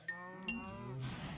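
Cows mooing on an early Minecraft cow farm, two short harmonic moos starting close together near the start, then a lower drawn-out bellow trailing off, fairly quiet with no talk.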